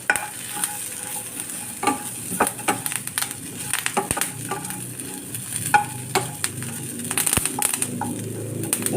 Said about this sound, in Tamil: இதில் கருவேப்பிலையும் நம்ம ஏலாப்பில் வச்சு நல்லா ஃப்ரை பண்ணி எடுத்துக்குவோம்